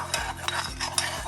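Homemade sugar wax is stirred in a pan, producing three rhythmic scraping strokes close by, each rising to a brief swish, with no voices.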